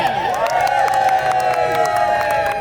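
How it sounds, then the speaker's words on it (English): Crowd cheering at a Pride rally recreating the first Pride in London, a sustained roar of many voices with high whoops and some clapping, loud and close. "Can I get a cheer?"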